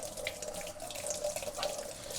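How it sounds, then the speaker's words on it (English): A tap runs steadily into a sink while hands are washed, a continuous close hiss of flowing water with faint splashes throughout, no voices. "I'm going to wash my hands."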